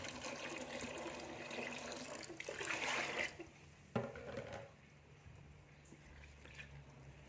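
Water is poured from a container over peanuts being prepared as fishing bait, a steady splashing pour that stops abruptly, followed by a small clunk and quiet room noise.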